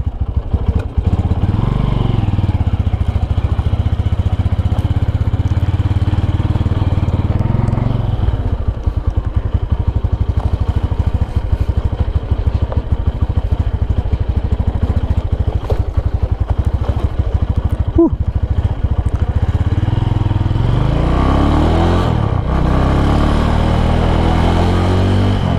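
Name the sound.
Honda Tiger 2011 motorcycle riding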